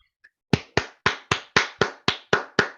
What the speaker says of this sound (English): We get a little round of applause here.